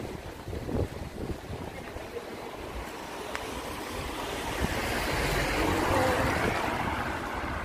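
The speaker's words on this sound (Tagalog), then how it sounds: "Lakas ng hangin, guys." Steady strong wind on a street in Valencia, Spain roars and buffets the microphone, swelling louder over several seconds with a broad rushing noise.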